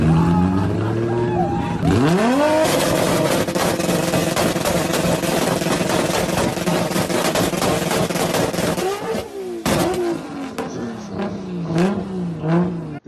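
A Toyota Supra with a 2JZ engine revs hard during a burnout, its loud exhaust sweeping up into a sustained howling wail. It cuts off briefly, then returns in rising and falling revs, close and dominant throughout.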